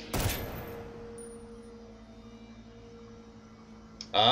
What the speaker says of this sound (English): I am shooting through the scope